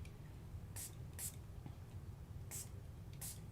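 Quick bursts from a spray bottle misting gel prints made for mixed media art, four short hissing spritzes in two pairs, fairly close, over a low room hum.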